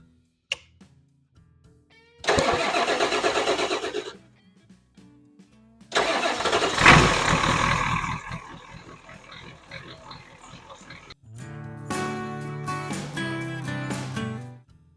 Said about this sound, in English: Basically, the truck starts up perfectly fine.